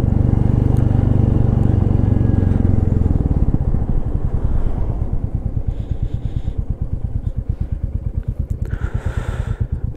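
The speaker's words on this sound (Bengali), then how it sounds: "তো আমি যেটা চালাচ্ছি এটা হচ্ছে যে ক্লাসিক 350" Royal Enfield Classic 350 ridden on a hill road from the Nepal border toward Mirik near Darjeeling, its loud, close engine thumping in a steady rapid beat under wind rush, with the pitch easing as the bike slows.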